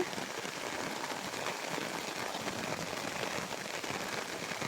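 Steady hiss of rain pattering on a surface, even and unbroken throughout, with no voices.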